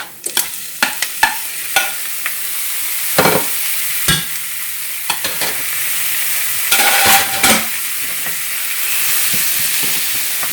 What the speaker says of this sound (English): So we're going to add the squash.